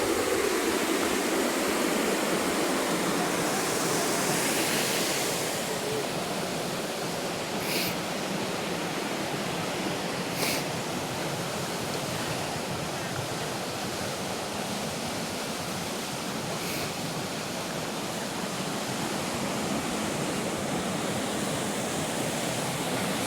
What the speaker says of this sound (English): So this is Kirkjufellfoss, which is the waterfall.